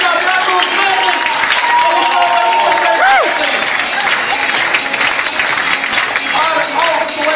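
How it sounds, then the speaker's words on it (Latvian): A live audience applauds loudly, with dense, continuous clapping and crowd noise that carry steadily through the whole stretch, and a few voices rise above it. "Mēs tagad sāksim skaļi aplaudēt."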